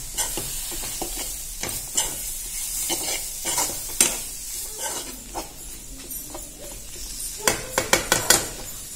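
Grated coconut sautés and sizzles in a pan while a spoon stirs it, with scraping and clinking strokes at an irregular pace that cluster and grow louder near the end, close by and with no talk.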